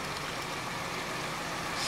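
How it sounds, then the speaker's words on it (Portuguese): Peugeot 207 engine idling during an oil change, a steady low hum with a faint, even rumble, continuous and unchanging over the short stretch with no talk. "Agora a gente já vai desligar o motor."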